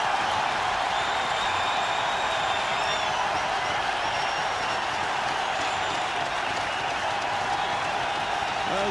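A cricket crowd at Sharjah in 1998, India versus New Zealand, applauds and cheers a wicket taken by Agarkar. The sustained, loud applause roars throughout, with a commentator's voice faintly beneath it.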